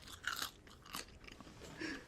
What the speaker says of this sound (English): Do a crunchy chip sound for the ASMR.